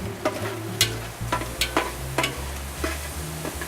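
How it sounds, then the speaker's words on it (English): Sausage, celery and onion sizzling steadily in a hot pan, with a spoon scraping and stirring through the frying at irregular intervals, close and moderately loud. "So we'll go ahead and get the sausage where it's getting nice and hot."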